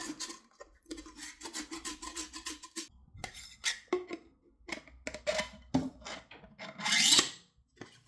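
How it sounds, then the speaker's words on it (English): Close, raspy scratching of sandpaper wrapped around a knife rubbing against wood in quick, uneven back-and-forth strokes, with brief pauses between bursts. "I wrap my sandpaper around my knife and use that as the sanding block to get in there."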